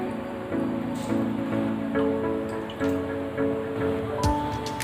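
Water poured into a pan while making Tamil-style crispy rava finger chips, a soft, moderately close liquid trickle with small drips and splashes over a few seconds.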